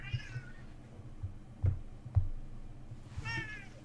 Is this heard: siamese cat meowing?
yes